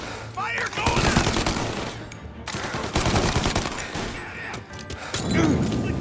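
Repeated gunfire from a shootout in the Mafia: Definitive Edition video game, with dense bursts of rapid shots and crashing impacts across the whole stretch, loud and close, while voices shout over the battle.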